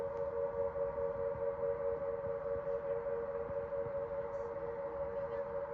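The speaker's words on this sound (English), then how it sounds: "Yep, air raid sirens." Air raid sirens in Cyprus wail in the distance, a steady, sustained two-tone drone that holds faint but continuous, with no voices over it.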